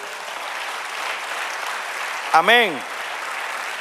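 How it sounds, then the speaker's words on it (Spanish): A church congregation applauding, a continuous wash of clapping at even loudness throughout, briefly interrupted by a single spoken word near the end. "Den otro aplauso"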